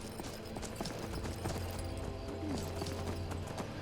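Steady hoof clip-clops from a horse in a video game at a walking pace, quiet and continuous, with a low ambient hum beneath.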